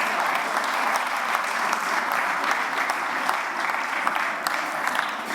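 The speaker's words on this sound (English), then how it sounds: "A big round of applause, ladies and gentlemen, to Marion Bartoli." Audience at the Fed Cup World Group draw ceremony applauding in a steady, dense round of clapping that holds evenly throughout.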